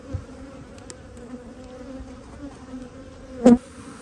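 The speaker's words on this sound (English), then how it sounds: "I've got my ear defenders on and I can still hear a swarm of them behind my head." Dense, steady buzzing of an angry honey bee swarm pouring from a solid chimney colony over ten years old, loud and close throughout, with a brief sharper burst of wingbeats near the end.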